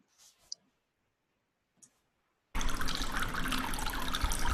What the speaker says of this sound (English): There's this fabulous sound of water on this low fountain in this lush, beautiful room.